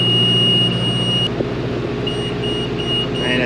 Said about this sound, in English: really quick, we're going to start beeping